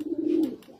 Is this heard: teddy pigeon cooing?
yes